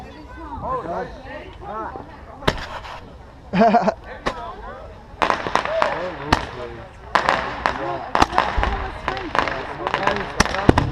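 Backyard Fourth of July fireworks crack and bang in irregular bursts, some in rapid clusters, while voices shout and chatter excitedly throughout.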